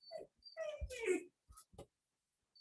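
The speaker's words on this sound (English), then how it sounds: "puppy here is making noise." A puppy whimpers and whines in short, high, faint bursts, close to the microphone, with pauses in between.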